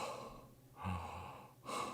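A voice imitating labored breathing through a stuffy nose, with several heavy, rasping inhales and exhales close to the microphone.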